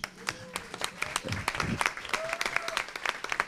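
An audience at a Rio seminar applauds Grupo Arco-Íris with scattered, distinct claps, while a voice carries on in the background and a few tonal sounds drift through.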